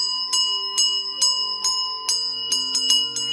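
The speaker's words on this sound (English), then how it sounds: "Bells are ringing, yes." Bells ring alone in bright, clear strikes, about nine of them spaced unevenly with a few quick doubles, each tone sustaining and overlapping the next.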